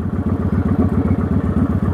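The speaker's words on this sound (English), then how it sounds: "So when I rev it up, I'm in neutral right now." A motorcycle engine idles in neutral close by, a steady low chugging pulse with an even rhythm and no voices.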